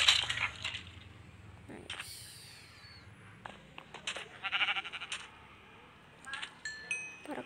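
Goats bleating in the video game Minecraft, a few short bleats among clinks and crunching game effects, fairly faint, with a person talking intermittently.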